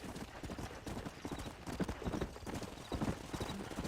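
Rapid hoofbeats of several horses galloping in the video game Red Dead Redemption, steady clip-clop rhythm with an occasional whinny, close and continuous.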